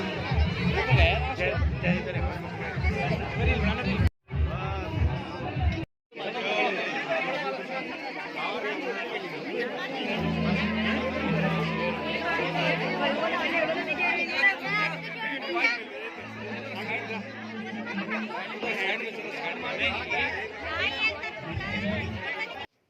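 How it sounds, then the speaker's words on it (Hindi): A loud, dense crowd chatters and shouts at a hill-region Pahadi wedding during the jaimala garland exchange. The babble is constant, with two brief dropouts, and low tones rise beneath it in the second half. "यहाँ पे जयमाला होने लगी है और शोर बहुत ज़्यादा हो रहा था"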